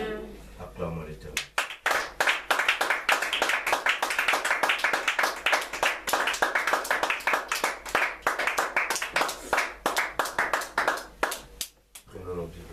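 A church congregation claps together in praise of God, rapid rhythmic handclaps that start after a brief pause and continue loudly and steadily for about ten seconds before stopping.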